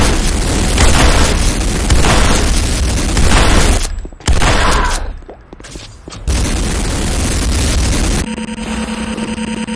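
An enemy structure in C&C Renegade erupts in a long, loud, roaring explosion with crackling bursts, briefly dipping into quieter debris rumble before surging again, then settling into a steady droning background, close and overwhelming.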